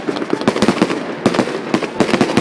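Black-powder fireworks going off in a loud, rapid crackling string of sharp bangs and pops, several bursts in quick succession, close and with no voices.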